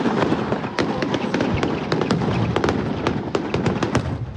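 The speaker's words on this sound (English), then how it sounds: "and a luminous firework" A dense barrage of fireworks at a Diwali celebration in New Zealand, with rapid, sharp crackling bursts packed close together and a steady loud rumble underneath, continuous throughout.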